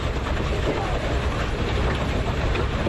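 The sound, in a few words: Reeves steam engine running in parade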